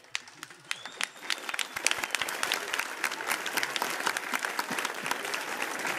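A concert audience at the Joy Station club applauds for a Bulgarian singer. The clapping from the crowd is dense and sustained, with single claps standing out, and it swells after a quieter opening.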